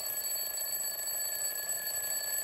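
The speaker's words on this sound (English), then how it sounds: "Old-fashioned alarm clock" Old-fashioned alarm clock ringing steadily and continuously at close range, a loud, unbroken mechanical ring with bright sustained tones and no pauses.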